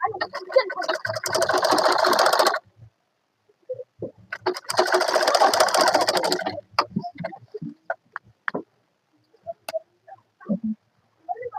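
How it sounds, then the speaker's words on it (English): Sewing machine stitching an ankara fabric crop top, heard as two sustained runs of rapid mechanical whirring about two seconds each, separated by quiet pauses with scattered light clicks and handling noises. "And sew it down."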